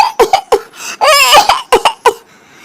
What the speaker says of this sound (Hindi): वो जानबूझकर जोर जोर से खांसने की एक्टिंग करना शुरू कर देती है।